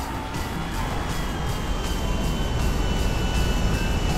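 An airplane in GTA V gives off a steady, loud engine roar with broadband rushing noise that holds evenly throughout.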